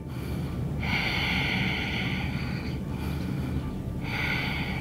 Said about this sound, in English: So really breathe deeply here.